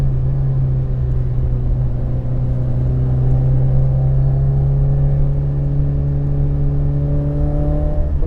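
A Fiat Cinquecento Trofeo replica's engine revs above 4000 rpm, a loud steady drone with whining tones that rise slowly under a rumbling exhaust.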